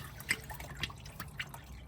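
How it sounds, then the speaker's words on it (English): Oil dripping off the oil filter cover of a Toyota Camry V6 during an oil change, with a few faint, close drips at an uneven pace over a low background hum. "the oil drains off of it"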